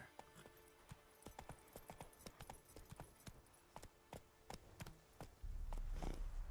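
Horse hooves clip-clop at a steady walking pace in the video game Witcher 3: Wild Hunt, crisp close footfalls in even rhythm, ending in a louder rushing burst.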